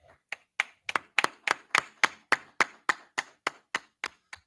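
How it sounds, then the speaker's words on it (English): About fifteen sharp, evenly spaced claps ring out in a steady rhythm, close and distinct rather than a blended crowd, following a call to clap it up at an Israelite School of Universal and Practical Knowledge gathering in Houston. "All right, clap it up."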